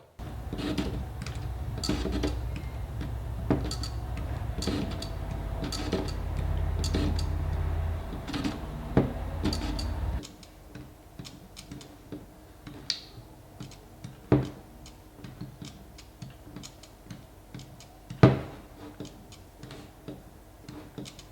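A Fujinon 33mm f1.4 lens's autofocus mechanism hunts and focuses, making a series of faint, close, irregular ticks and clicks, first over a steady background hum and then in near silence.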